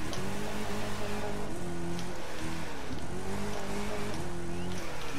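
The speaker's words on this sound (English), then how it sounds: "it's just not a nice sound when just when it's hitting the rev limiter constantly" A Chevrolet Camaro SS in The Crew 2 video game bounces off its rev limiter again and again, a steady, loud stuttering engine drone with rapid repeated cut-outs and no speech.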